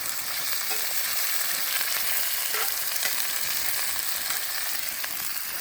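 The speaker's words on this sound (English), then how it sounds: "So right now I'm just frying up some deer hamburger" Steady crackling sizzle of deer hamburger frying in a pan with a little oil, a continuous bright hiss with small pops throughout, close and even in loudness.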